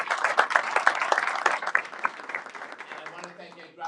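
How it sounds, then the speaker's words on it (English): Applause and clapping from an audience at a community event honoring an NYPD officer, a dense, steady burst of many hands that tapers off near the end. "So let's give them a big round of applause."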